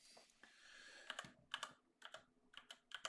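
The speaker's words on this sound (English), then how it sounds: "I guess I'm just going to type it in." Fingers type on a computer keyboard, entering a trading card name: quiet, close, irregular keystroke clicks come in short clusters with brief pauses between.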